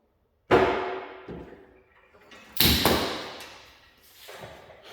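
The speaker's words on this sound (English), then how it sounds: "that's the sound of the hydraulic ram hitting the floor" A hydraulic ram hits the floor during car frame straightening: two heavy thuds about two seconds apart, each a sharp broadband impact ringing and fading slowly, with a fainter knock near the end.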